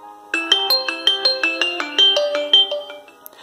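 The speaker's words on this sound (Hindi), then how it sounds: "हम चेक करते हैं कि डिफॉल्ट रिंगटोन का वॉल्यूम कितना है।" Default ringtone of a Xiaomi Redmi 5 playing loudly from the phone's own speaker, a bright melodic sequence of short plucked tones in a steady rhythm, heard alone.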